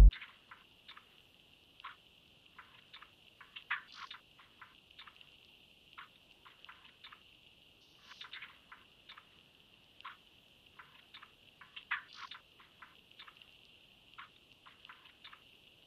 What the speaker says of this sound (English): I'll play the perc loop and the texture together.